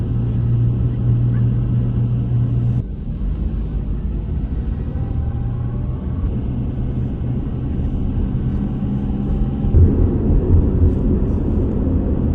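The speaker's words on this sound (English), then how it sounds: "this 2002 Honda CR-V is driving on the Monaco Grand Prix circuit" A 2002 Honda CR-V drives through the Monaco Grand Prix circuit streets, heard as a steady low engine and road rumble from close by with slight shifts in tone.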